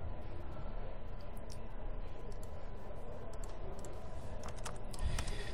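Steady typing on a computer keyboard runs under a loud, constant broadband background hum, with the key clicks faint and blended into the noise throughout.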